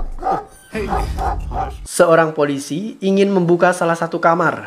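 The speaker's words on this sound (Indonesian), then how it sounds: "terdengar suara anjing menggonggong begitu keras" A dog barks loudly in short bursts from behind a closed door while a narrator speaks over it throughout.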